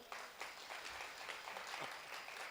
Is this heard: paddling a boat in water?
no